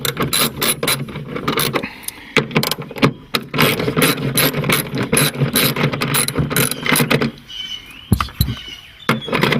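A hand ratchet with a 10mm socket rapidly clicks as it backs out the center brake light bolts on a 2013 Kia Soul, a close, loud, continuous run of sharp clicks with brief pauses.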